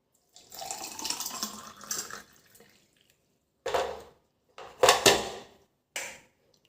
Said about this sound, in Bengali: আর দেবো উষ্ণ গরম জল।